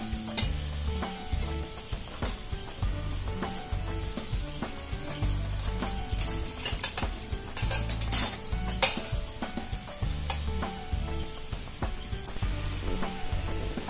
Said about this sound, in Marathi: व्यवस्थित मळून घ्यायचंय।